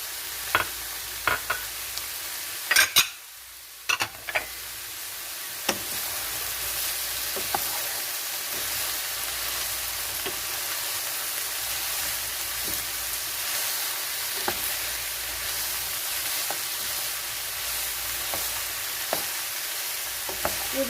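Peppers and onions fry in a pan for a chicken and vegetable dinner, giving a steady loud sizzle broken by scattered scrapes and clicks as a utensil stirs them.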